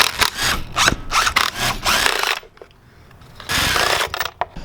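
A wrench works on the intake manifold bolts of a Ford Focus RS in a series of close, loud ratcheting bursts, broken by a short quiet pause before the clicking resumes.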